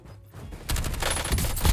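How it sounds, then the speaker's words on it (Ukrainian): A burst of rapid Warzone gunfire erupts after a brief quiet moment, loud and sustained with sharp cracking shots in quick succession. "я бачу, що стріляє по мені"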